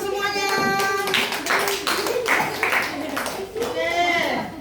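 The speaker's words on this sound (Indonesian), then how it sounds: "Oke, tepuk tangan semuanya." Schoolchildren in a sixth-grade classroom clap together in rhythmic bursts, mixed with bright young voices and chatter close by.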